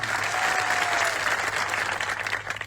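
A political rally audience applauds police officers on duty: dense, steady clapping from a large crowd that stays loud for the whole stretch, with no speech over it.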